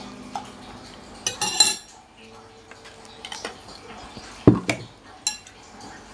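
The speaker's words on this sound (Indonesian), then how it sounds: "Kita aduk-aduk." Spoon stirring meatball soup in a bowl, light clinks and scrapes of metal against the bowl coming in short bursts, close and fairly quiet.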